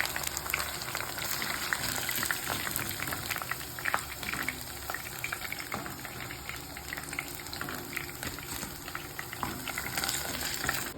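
Chicken 65 deep frying in oil, an even, dense, continuous bubbling sizzle heard up close and fairly soft, with no talk.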